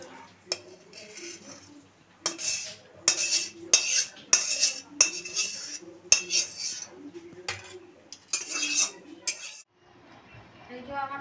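Cooked hilsa fish curry being poured and scraped from a pan into a serving dish, with a series of rhythmic metallic clinks and scrapes of the utensil against the pan, then a quieter tail at the end.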